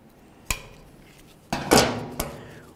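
Metal clinks and taps as a locking snap ring is worked into the groove of a lower ball joint on a 2010-2013 Ford Transit Connect, with a few sharp hits and a brief scraping slide, close up.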